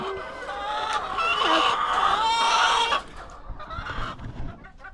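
A flock of farm chickens clucks and squawks loudly and close, a dense chorus of overlapping calls that drops to scattered softer clucks after a few seconds.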